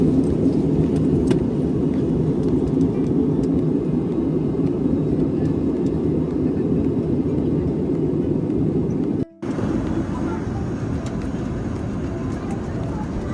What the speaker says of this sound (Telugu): ఇది ఎగిరింది గాల్లో ఉన్నాం